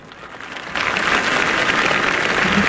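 Baseball stadium crowd applauding and cheering after a first pitch, a dense, steady wash of clapping that swells louder partway through and holds, with no talk over it.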